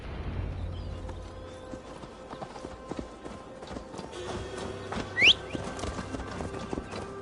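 A horse's hooves clip-clop at a steady walking rhythm through an untamed Gloucestershire forest in Assassin's Creed Valhalla, fairly quiet and close, with a brief whistle-like chirp partway.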